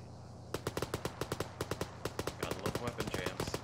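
Rapid bursts of gunfire in a tactical shooter game right after a weapon jam is cleared, sharp close shots in quick irregular runs with talk faintly underneath.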